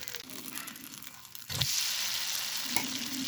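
Potato and egg batter fries in a pan, a soft sizzle followed by a sudden louder hiss and scrape as the piece is flipped, then a bright, sustained sizzle up close with a second small clack near the end.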